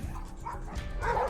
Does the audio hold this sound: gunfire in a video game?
no